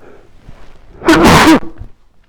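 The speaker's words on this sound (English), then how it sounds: "excuse me, I gotta sneeze" One loud, close sneeze bursts out after a short inhale, then fades into quiet breathing.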